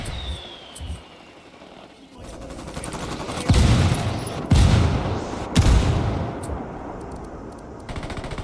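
Mortar rounds pound down in a Ghost Recon Wildlands firefight, several heavy booming impacts bursting over a steady rattle of gunfire, loud and close, with game voices mixed in.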